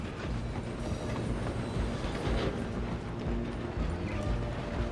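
A moving train in Red Dead Redemption 2 rumbles steadily and close, with rolling wheel clatter and a dense mechanical roar, and horse hooves may be mixed in under it.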